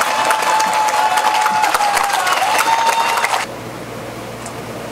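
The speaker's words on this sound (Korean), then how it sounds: "이건 왜 박수 안 쳐줘요?" A campaign rally crowd applauds outdoors in the square in front of the Muju county office during an evening candidate speech, a loud dense clatter of clapping that cuts off sharply partway through and leaves quieter background noise.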